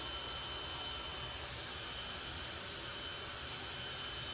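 A jet dragster at a retro drag racing event lets out a steady, distant roaring whine with a thin high-pitched screech from its exhaust, constant throughout.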